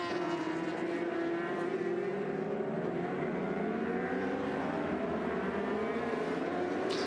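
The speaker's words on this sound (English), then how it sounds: "Leon Haslam opens the throttle, accelerates out the last corner, coming down the start-finish straight" A racing motorcycle engine accelerates out of the last corner onto the start-finish straight at the Suzuka 8 Hours endurance race, a steady, rising high-revving drone heard from a distance.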